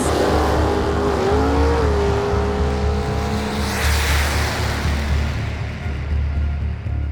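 Race cars roar at full throttle, a loud sustained engine drone with rising pitch sweeps as they accelerate hard, the sound staying close and continuous throughout.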